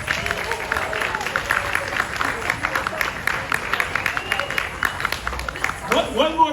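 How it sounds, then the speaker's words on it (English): An audience at a dance performance in Harvard Square, Cambridge, claps in sustained applause, a dense patter of many hands with crowd murmur, while a voice speaks over it near the end. "One more round of applause"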